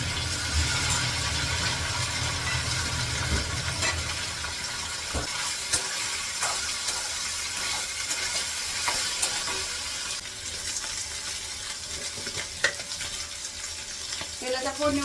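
Cumin seeds sizzling in very hot oil in a wok, a dense, steady crackle heard close, with occasional clinks and stirring scrapes throughout.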